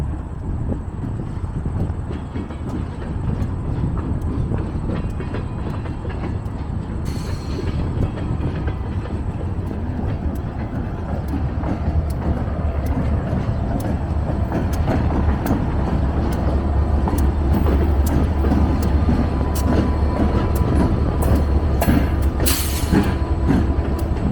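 A long, steady rumble of a passing train, with wind buffeting the microphone and a few sharp clicks near the end.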